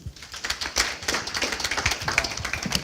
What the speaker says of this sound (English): Let's clap for Faith again.